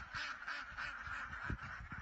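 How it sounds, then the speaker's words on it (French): A flock of ducks quacks in the snow, several birds calling in short overlapping bursts with a busy, uneven rhythm, fairly close but soft overall. "Oh oui, beaucoup de canards,"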